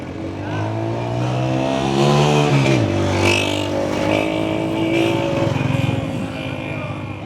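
Engine noise drones and rises as a motor revs, with a loud pitch sweep midway, heard under nearby talking.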